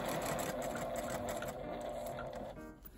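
A sewing machine runs a straight seam along a small L-shaped zipper pouch made from fabric scraps, a continuous close whirring hum of rapid stitching that slows and stops near the end.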